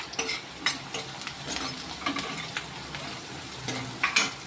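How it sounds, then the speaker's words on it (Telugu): Onions frying in oil in a pan for dal tadka, a steady sizzle close by with spoon stirring and scraping against the pan. "ఆనియన్స్ అయితే వేసేద్దాం ఆనియన్స్ అరంగా ఫ్రై అయిపోవాలంటే"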